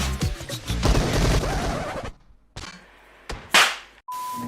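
Video game gunfire and rocket shots: a dense, loud burst of rapid shots followed by separate sharp blasts and an explosive whoosh, all close and with no talk.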